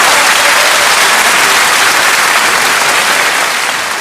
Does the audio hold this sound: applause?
yes